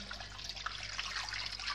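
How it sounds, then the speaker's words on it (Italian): Water pours into a pot of peeled potatoes and coarsely chopped onion for a pumpkin velouté, a steady close splashing trickle heard alone for a couple of seconds. "ad unire abbondante acqua, mettiamo anche un po' di acqua."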